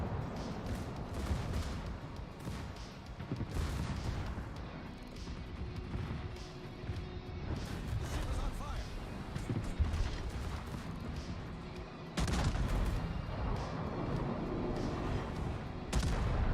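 Secondary guns on a warship in World of Warships fire in repeated booming salvos, with dense overlapping blasts and rumbling battle noise throughout, loud and continuous, without speech.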